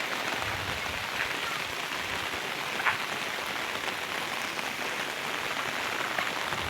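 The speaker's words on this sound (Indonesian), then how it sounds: "hujan deras" Heavy rain pours at a campsite, a dense, steady hiss of drops hitting surfaces with a few sharper close splats, constant and loud with no voices.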